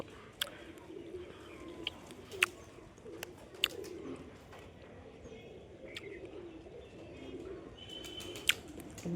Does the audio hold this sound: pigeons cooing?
yes